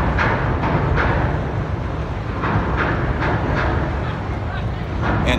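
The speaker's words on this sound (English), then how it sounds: "That's the train, you guys, here." A train rolls past in an outdoor setting near water, a dense continuous rumble with faint rhythmic clacking, fairly loud and close throughout.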